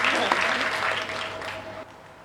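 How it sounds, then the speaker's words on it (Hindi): Applause rises from a crowd at a Hindi comic poetry gathering, with sustained clapping that tapers slightly while a voice talks over it. "एक बार जोरदार तालियां इनके लिए हो जाए मातृ शक्ति के रूप में।"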